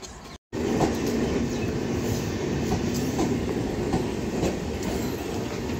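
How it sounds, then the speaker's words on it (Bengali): A local train on the Tatanagar to Kharagpur line pulls into the station, its steady, loud rumble and rattling wheels filling the scene after a brief gap at the start, with no talking. "তো এই সামনে ট্রেন আমাদের চলে এসছে"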